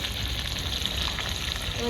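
Chicken frying in a pan for a village-style chicken changezi, giving a loud, close, continuous sizzle with faint stirring, unbroken throughout.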